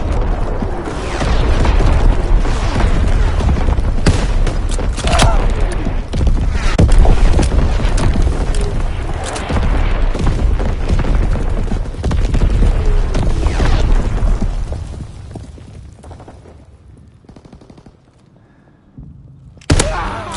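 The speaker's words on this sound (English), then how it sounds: "Incoming enemy artillery! Get to cover!" An enemy artillery barrage in a console war game rumbles as a continuous heavy booming wash of explosions and debris for most of the stretch, then fades to near quiet before a last burst.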